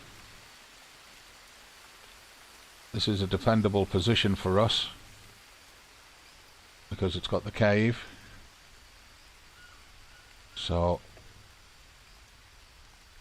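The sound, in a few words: rain falling in a video game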